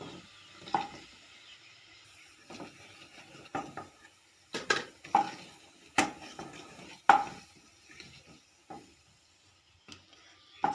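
Fried lentil fritters are lifted out of a pan of hot oil. A spatula scrapes and clinks against the metal pan in a string of sharp, irregular knocks over a faint sizzle, with quiet pauses between strokes.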